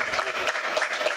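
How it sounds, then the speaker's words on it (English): Clapping rises from the audience at a community group awards ceremony in Trinidad and Tobago as a guest pastor is honored; the applause is moderate and slightly uneven, with a few individual claps standing out. "Can we give a round of applause to Pastor Dr. Loney?"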